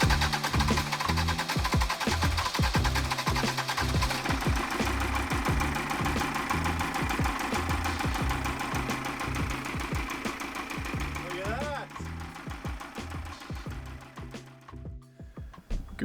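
A rebuilt boat engine in a marina starts and settles into a steady rumbling idle, with rhythmic mechanical knocking and a clattering mid-range drone that carries on loudly and evenly before fading slightly near the end.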